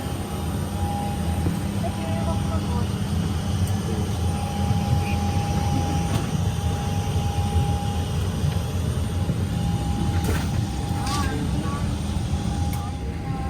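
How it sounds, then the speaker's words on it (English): Cabin of a Virgin Australia airliner on a Gold Coast to Sydney flight, a steady broadband engine and air roar with a thin tone, a crew announcement spoken over it, and a few faint clicks. "It is great to welcome you on board your Virgin Australia flight."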